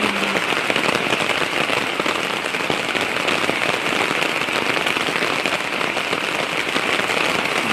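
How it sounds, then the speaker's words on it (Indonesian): Heavy rain pours down steadily, a loud, dense hiss with pattering drops that stays constant throughout. "Hujan gede banget ya Allah"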